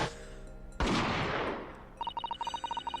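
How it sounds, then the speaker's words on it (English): Gunshot sound effect in The Great Ace Attorney Chronicles video game: one loud, sudden blast that decays over about a second, followed by a quick series of rhythmic electronic text blips. "a gunshot rang out from over his shoulder"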